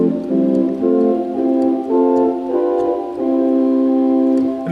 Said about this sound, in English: So let's go back to the tibia, which is a flute pipe.